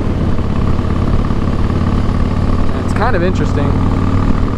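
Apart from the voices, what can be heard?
Harley-Davidson Fat Boy motorcycle engine running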